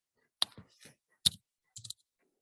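Keys tapped on a computer keyboard while coding in Java, a few sharp clicks in two small bursts separated by short gaps, close and quiet with no voices.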